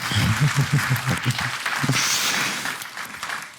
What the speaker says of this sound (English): it's your applause